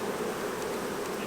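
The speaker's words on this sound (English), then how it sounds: "I could shake all these bees out" Honey bees humming inside an open hive box during an inspection, a dense steady buzz that is close and continuous without voices.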